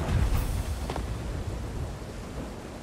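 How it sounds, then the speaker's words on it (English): Low rumbling thunder with steady rain noise in an open-world superhero game, a broad heavy roll that fades slowly over a few seconds with no talking. "With the rain outside is wicked."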